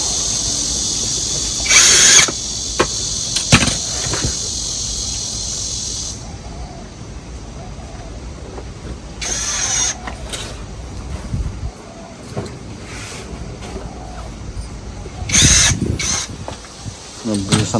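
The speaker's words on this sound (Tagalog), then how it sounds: "Mabilis ang trabaho pag meron ka palang gano'n, oh. Yung pang driller." A power drill drives screws while a motorcycle is being built, giving several short, sharp high-pitched whirring bursts separated by pauses, with clanks and handling noises and some background talk.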